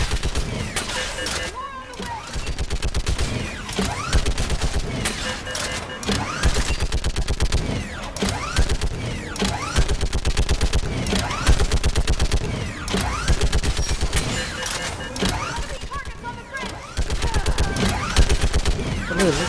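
Sustained automatic gunfire in the video game Mass Effect 3, dense rapid bursts of shots continuing loudly throughout with brief pauses, layered with battle noise and voices.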